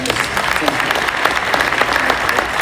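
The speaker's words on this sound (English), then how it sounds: "Let's hear it again. Round of applause." Audience applause fills a town hall meeting in Miami-Dade County, a steady, dense wash of clapping at close range that keeps going without a break, with voices calling out faintly through it.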